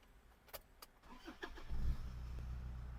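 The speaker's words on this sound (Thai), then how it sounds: "เรามาลองสตาร์ทรถกันนะคะ" A 2006 Toyota Fortuner 3.0V 4WD turns over with a few clicks and a brief crank, then the engine catches and settles into a steady low idle rumble, heard from inside the cabin.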